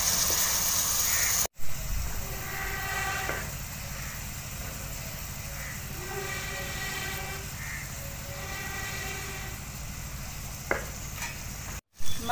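Finely chopped tomatoes cook in a pan with a steady, soft sizzle and occasional stirring scrapes that continue throughout, close by, with a brief dropout near the start and another near the end.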